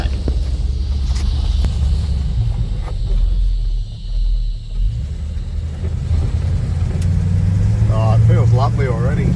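Holden HQ-HZ car with a power steering upgrade pulling away, its engine rumbling close and steady with a brief dip, then rising; a voice is heard near the end.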